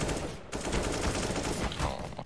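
Dense, continuous gunfire roars throughout in the video game Office, loud and sustained rapid shots with no pause, and no talk over it.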